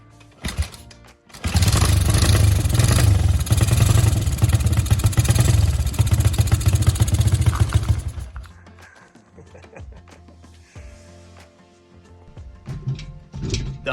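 A Honda 200X three-wheeler engine runs loud and close for several seconds with a rough, rapid mechanical clatter, then cuts off, leaving quieter background clicks and faint sounds.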